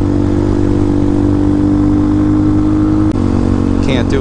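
A Vitacci Apollo DB36 supermoto motorcycle is ridden at a steady pace, its engine giving a constant loud droning hum with a brief shift in pitch near the end.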